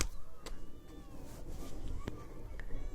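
A cat meows several times in a row, fairly quiet, over a soft background hiss with no talking.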